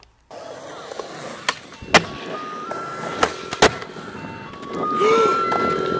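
A faint jingly ice cream truck melody plays among clacks and rolling skateboard noise outdoors at a skate park, a few sharp knocks punctuating the scene.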